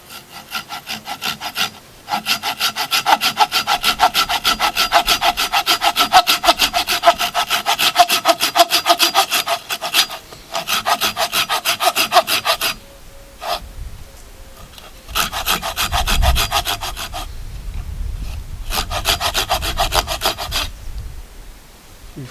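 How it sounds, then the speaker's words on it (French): A hand saw cuts a 45-degree angled notch into a round piece of wood for a lengthwise half-lap joint, a close, rhythmic rasping of steady back-and-forth strokes with brief pauses. "Une fois qu'on a découpé la moitié du diamètre de la pièce et en biais"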